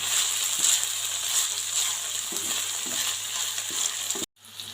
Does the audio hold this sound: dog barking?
no